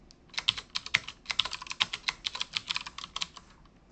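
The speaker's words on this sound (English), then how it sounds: "type in your project name." A project name is typed on a computer keyboard, a quick run of crisp, close key clicks in an uneven rhythm for a few seconds, with no talking.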